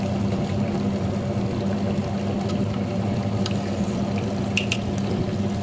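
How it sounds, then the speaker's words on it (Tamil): Water is poured into dosa batter in a wet grinder, a steady splashing, trickling wash running continuously under the low hum of the machine, with no talking. "தண்ணி பார்த்துட்டு சேர்த்துக்கோங்க."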